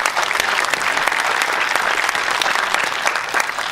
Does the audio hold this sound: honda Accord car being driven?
no